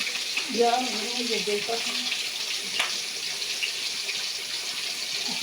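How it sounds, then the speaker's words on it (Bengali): Spices frying in a pan for a katla fish and cauliflower curry, a soft steady sizzle with a brief stir of the pan near the start, moderately quiet and without talking. "সব মশলাগুলো দিয়ে ভালোভাবে এটাকে কষাতে হবে"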